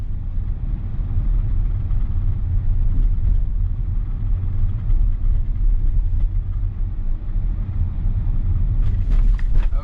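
A Tesla driving itself in Full Self-Driving (Supervised) v12.3.6 on the way to Gantry Plaza, heard from inside the cabin as a steady low rumble of road and tyre noise, with a brief rattle near the end.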